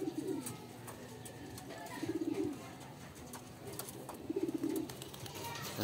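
English Carrier and racing pigeons coo softly in three low throaty bursts spaced about two seconds apart, faint against a quiet outdoor background.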